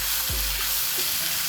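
Bitter gourd is sautéed with Kashmiri chilli powder and coriander powder for masala pavakka, making a dense, loud, continuous sizzle with a brief low scrape of stirring.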